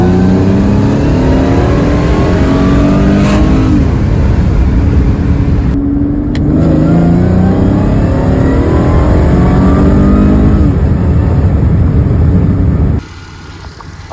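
Mercedes C32 AMG with a new tune revving hard through an acceleration pull, engine pitch climbing in repeated rising sweeps through the gears, very loud and close, ending abruptly as the throttle drops near the end.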